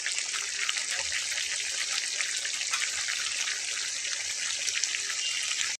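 Chicken pieces with potatoes sizzle and fry in their own released juices and oil in a kadai, a dense, even crackle that holds steady and close throughout, with no voices.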